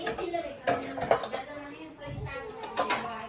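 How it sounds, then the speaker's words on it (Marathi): A kadhai, or wok, clanks onto a home stove before chicken is cooked, with a few metallic knocks and rattles of pots and utensils mixed with indistinct household voices and a cooing dove nearby. "चल कढाई ठेव मस्तपैकी आणि थोडं तेल टाक"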